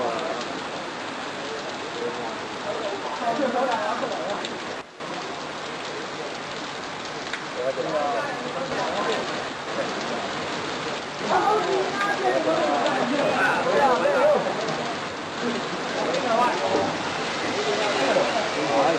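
Steady, heavy rain hisses throughout a racing game's wet-weather scene, a dense continuous wash that swells toward the end, with players talking over it.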